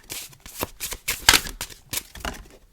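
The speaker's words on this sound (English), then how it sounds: "I'll give it a few more shuffles" Tarot cards being shuffled by hand in a series of quick riffling bursts, close and crisp, with short pauses between the shuffles and no talking.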